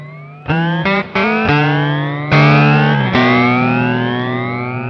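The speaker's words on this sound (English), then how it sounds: "change it to just frequency shifting up, so the frequency shift knob is at 3" Notes from a Red Panda Radius frequency shifter pedal, set to shift upward, glide endlessly upward, tones rising in overlapping sweeps with each new attack, loud and continuous.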